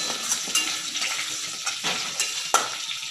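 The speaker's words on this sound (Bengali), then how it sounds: "কাঁচকলার মধ্যে আর আলুর মধ্যে কালো জিরে ফোড়ন দেব, একটা গোটা কাঁচা লঙ্কা ফোড়ন দেবো।" Potato and green plantain stir-fry with nigella seeds and a whole green chili over high heat: a bright, close sizzle with several sharp spatula scrapes against the pan at irregular intervals.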